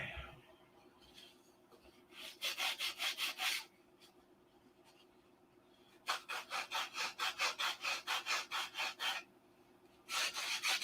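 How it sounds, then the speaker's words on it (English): Hand sanding of a model airplane's wooden stabilizer in bursts of quick back-and-forth rasping strokes, close up, with short quiet pauses between sets. "Okay, back to sanding."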